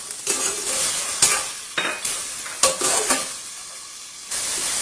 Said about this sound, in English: Now we'll add our tomatoes. Keep stirring this for 2 minutes on high flame.